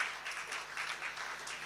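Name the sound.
audience applause at annual gathering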